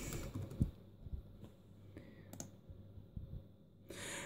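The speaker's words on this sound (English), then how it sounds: "I'm going to type in the captcha." Quiet, scattered clicks of keys being tapped on a Toshiba Satellite L300D laptop keyboard while entering a captcha, a few soft presses spaced irregularly, with faint room hum.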